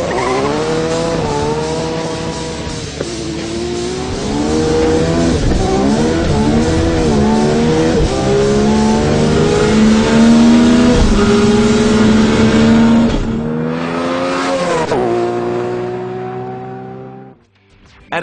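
A modified Nissan GTR R32 of over 1000 hp, making a drag strip pass: a loud, close engine screaming up through the gears, with rising revs and shift breaks before the roar fades at the end.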